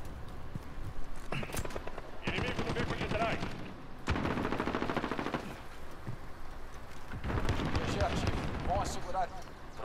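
Bursts of rapid automatic gunfire in Call of Duty: Modern Warfare, several sustained volleys with short gaps, loud and close, with a player talking over parts of it.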